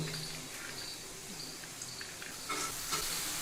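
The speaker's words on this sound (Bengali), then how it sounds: "এই আলু কুচিগুলো দিয়ে দিব" Chopped potatoes tipped into hot oil and spices in a pan, a steady broadband sizzle and hiss that swells slightly near the end, close and continuous with no voices.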